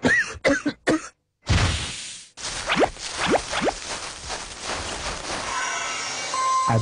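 Several harsh coughs and throat clearing open a herbal cough remedy commercial, followed by short whooshing sound effects and a brief musical tone.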